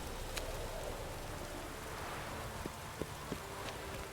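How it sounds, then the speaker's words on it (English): Steady rainfall in Novigrad in the video game Witcher 3, a soft continuous patter with a few faint drips and light thuds, no voices. "As you can see, this another very rainy day in Novigrad."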